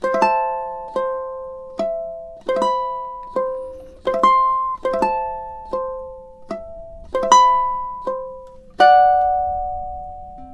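A ukulele plays a romantic classical piece, two measures of plucked single notes and small chords with clear attacks and ringing decay, alone and close at a moderate tempo.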